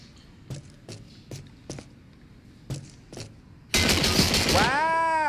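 Sharp bursts of video game gunfire aimed at the player crack out in irregular single shots, then a dense, loud volley erupts near the end with ringing, swooping tones.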